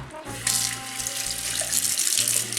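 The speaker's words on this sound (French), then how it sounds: "je me rince les mains, bien entendu." Tap water runs steadily into a sink as hands are rinsed under the faucet, a close, continuous splashing hiss with no talking.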